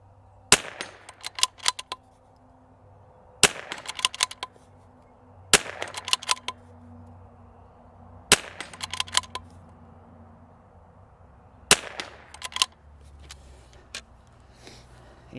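Bergara rifle in an Ultradyne UD7 chassis fired at targets outdoors, five sharp, well-spaced shots each followed by quick clicks of cycling the action, close and alone over a low background hum.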